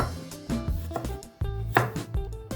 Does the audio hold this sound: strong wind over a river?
no